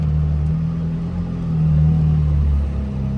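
A McLaren Sabre backs slowly into a parking spot with a deep, steady engine rumble that swells slightly midway. The sound is close and continuous, with no talk.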